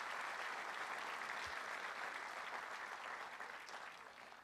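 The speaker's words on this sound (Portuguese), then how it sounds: "Vamos dar um aplauso a Jesus," Church congregation applauding during a service, a dense, continuous burst of clapping from a crowd that holds steady and then begins to taper off toward the end.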